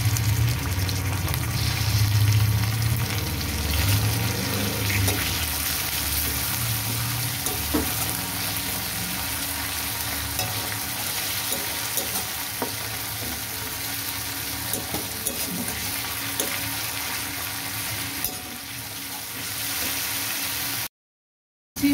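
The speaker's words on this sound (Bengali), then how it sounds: "ভাজা হয়ে গেছে, এবার আমি দিয়ে দিচ্ছি টমেটোটা।" Tomato goes into a pan of fried onions for a chitol fish curry, with a steady, continuous sizzle and crackle of frying that carries on for about twenty seconds without talk before cutting to silence.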